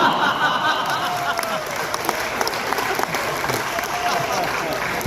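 Audience applause at a Hindi poetry gathering, a sustained patter of clapping with light chuckles mixed in, moderately loud and steady throughout.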